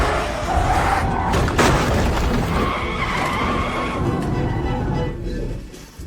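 A car swerves with screeching tires and then slams into an oncoming car in a dramatic crash, a loud sustained skid that breaks into a booming impact with shattering debris, with no talk over it.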